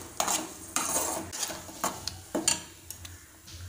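A utensil stirs and scrapes ginger chutney in a pan, with repeated metallic clinks and strokes at an uneven rhythm, close by and fairly loud.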